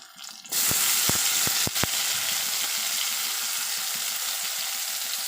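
Tomatoes tossed into onions in a hot pan for sambar set off a sudden loud sizzle that holds steadily to the end, with a few sharp clicks of utensils just after; nothing is spoken.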